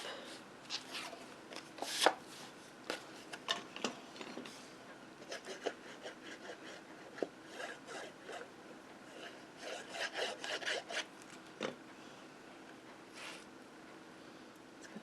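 Microfiber towel wiping stray embossing powder off a card, a series of soft, irregular rubbing and brushing strokes, faint and close, without talk.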